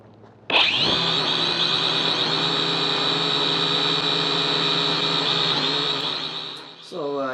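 A quadcopter drone spins up suddenly and holds a loud, steady, high-pitched motor whine through a full flight, fading slightly near the end before a brief change in tone.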